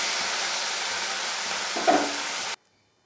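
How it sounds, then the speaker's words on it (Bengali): Steady hissing sizzle of bhola fish pieces frying in hot oil, continuous and fairly loud, with a brief louder crackle before it cuts to silence. "এবারে পরবর্তী চার পিস মাছটা ভাজছি একদম লাল লাল করে"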